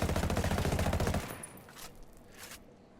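Rapid automatic fire from an FN FAL rifle fitted with a V4 foregrip in Ghost Recon Wildlands, a loud, evenly spaced burst lasting about a second, then cutting off into a fading echo and faint ambient noise.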